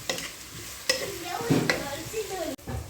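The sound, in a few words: frying spices in a pan for chicken majboos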